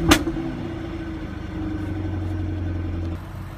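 A 2014 Jaguar F-Type V8S convertible fires up with a sharp initial bark, then settles into a loud, throaty V8 exhaust rumble that holds steady before dropping slightly, with no talking.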